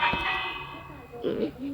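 A village bell rings in a video game, one bright clanging strike with a long ringing decay, followed by a brief burst of other game sounds.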